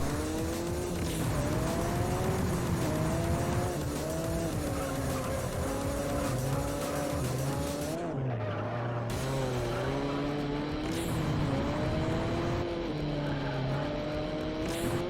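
A racing car in the Juiced street-racing game, engine revving hard and close, its pitch climbing and dropping through gear changes and braking, with tire squeals and skids throughout.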